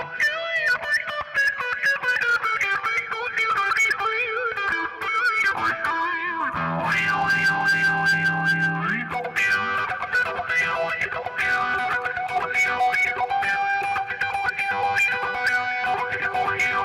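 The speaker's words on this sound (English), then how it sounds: "I'm going into the expression pedal input of the Eventide. I have the Eventide set to kind of a wah." Electric guitar through an Eventide H90 set to a wah-style effect, swept with a cheap VP1 expression pedal: continuous distorted, effected playing with shifting vowel-like sweeps, close and steady for the whole stretch.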